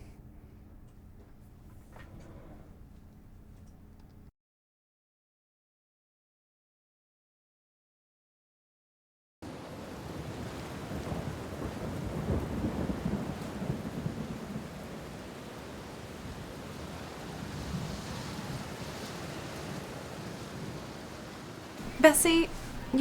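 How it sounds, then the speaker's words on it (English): Rain falling during a thunderstorm as the wind picks up: a short soft patter, a few seconds of silence, then a steady, fuller wash of rain with low rumbling and a sharp burst near the end. "I was just watching it rain."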